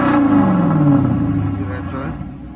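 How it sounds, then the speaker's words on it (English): A Dodge Charger RT with a muffler delete revving its exhaust, a loud, close roar that climbs then falls in pitch and settles into a rumbling idle, with voices faintly present. "I'm gonna let y'all hear this exhaust now"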